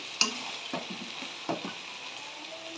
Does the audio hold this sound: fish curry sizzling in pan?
yes